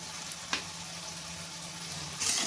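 Crispy chili potatoes frying with soy, Schezwan and tomato sauce in a pan, a steady, quiet sizzle with a couple of brief clinks and a louder hiss bursting up at the end.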